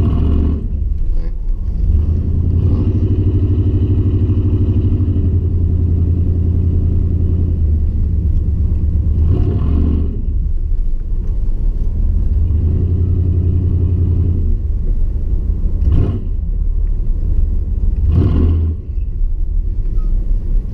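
A 4WD pickup truck drives through snow, its engine giving a loud, continuous low rumble with occasional revs and crunching bursts.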